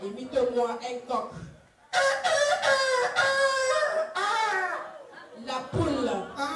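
At a birthday gathering, a person's voice imitates a rooster, giving long, drawn-out crowing calls one after another. Other voices chatter and laugh nearby.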